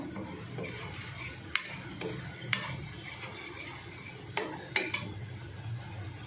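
Spice masala of turmeric, chili and coriander-cumin powder is stirred in a pan for a pea dish. A soft sizzle runs under a few distinct scrapes and clinks of the spoon against the pan, with no speech.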